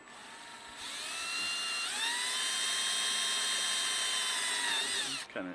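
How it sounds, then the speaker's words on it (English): A power drill bores holes into a Jeep Wrangler. It gives a steady high-pitched whine that rises in pitch partway through and holds loud and close for several seconds, then spins down and stops. "Now we've got the holes drilled"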